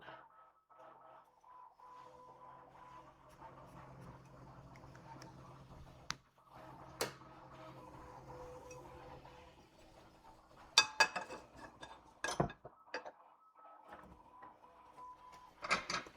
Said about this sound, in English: Can you guys hear the 3D printer?